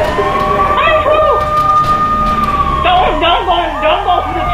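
A police car siren in Grand Theft Auto III wails loud and close with a long rising-falling tone, then switches to a faster yelp, with game engine noise underneath and a voice talking over it.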